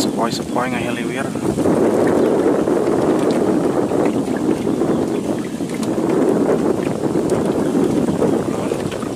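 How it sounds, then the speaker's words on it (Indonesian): Steady breeze buffets a small fishing boat on the Jatiluhur reservoir, a continuous broadband wind rush over the microphone with a faint voice partly buried beneath it. "angin sepoi-sepoi ngehiliwir"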